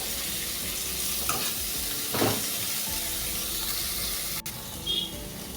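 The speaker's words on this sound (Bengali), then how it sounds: "দিয়ে আমি এটা 2 থেকে 3 মিনিট পেঁয়াজটাকে ভালো করে ভেজে নেব।" Onion frying in oil with bay leaf and slit green chilli, a steady close sizzle broken by a few scraping stirs of a spatula against the pan, no voices.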